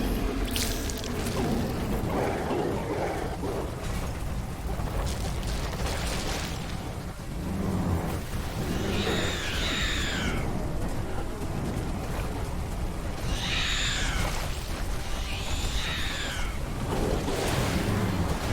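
Heavy, constant rain hisses through The Riftbreaker, broken by low thunder rumbles and sharper chirping effects that stand out over the downpour.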